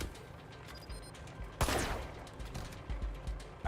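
Gunshots in the video game Wasteland 3: one sharp, loud shot followed by a rumbling tail and a few softer bangs in the game's combat soundscape.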